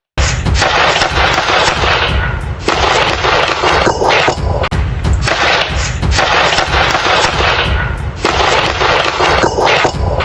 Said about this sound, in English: Those sounds were gunshots. Multiple gunshots.